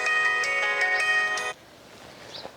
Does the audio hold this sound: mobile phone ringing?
yes